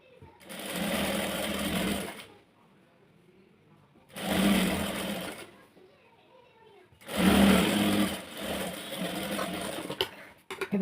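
A sewing machine stitches a sleeve in three loud bursts of running, each lasting a second or two, separated by quiet pauses.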